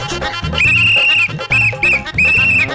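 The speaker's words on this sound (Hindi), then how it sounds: "अरे भाई सीटी धीरे से बजाना, मेरे कान पक रहे।" A shrill whistle is blown close and loud in three long blasts with short breaks, over a low background rumble at home.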